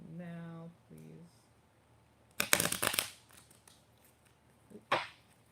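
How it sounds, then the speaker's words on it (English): A new tarot deck being shuffled: after a brief tonal chime, two bursts of crisp riffling and card flutter, the first longer and louder, the second short, with quiet gaps around them. "It's a new deck, so it's kind of hard to shuffle."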